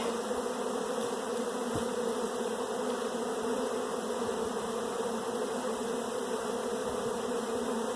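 Honeybees buzz thickly around an open hive with syrup in the frames and smoke in the air, a continuous close droning hum with no pauses and no speech.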